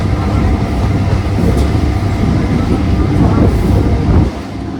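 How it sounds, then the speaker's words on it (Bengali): A passenger train pulls out of Birnagar station, its carriages rumbling loudly and steadily with a clattering rhythm, heard from on board. "বীরনগর স্টেশন ছেড়ে কিন্তু ট্রেনটা তাহিরপুরের উদ্দেশ্যে কিন্তু রওনা দিল"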